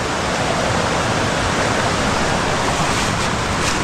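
A wilderness river rushes loudly over a stream crossing in the Middle Prong Wilderness, a steady, dense roar of churning water filling the whole clip without a break.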